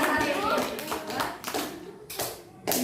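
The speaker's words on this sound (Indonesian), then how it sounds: "Ayo kita kasih tepuk tangan 5 kali untuk Bu Ayu ya." A school group at SMP Negeri 2 Batee claps together in a short rhythmic pattern of five claps, sharp bursts of hands with brief gaps, close and lively with some voices mixed in.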